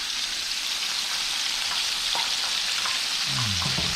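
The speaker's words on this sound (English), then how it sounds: "everything's frying up beautiful" Seasoned redfish pieces fry in hot oil, a loud continuous hiss and crackle of sizzling close to the pan, with a faint low rumble near the end and no talking.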